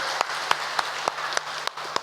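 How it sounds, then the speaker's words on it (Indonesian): A congregation applauds at an anniversary service of GKI Wonosobo church in Indonesia. Steady broadband clapping is punctuated by sharper, regularly spaced claps roughly three times a second. "sebenarnya tepuk tangan Bapak Ibu."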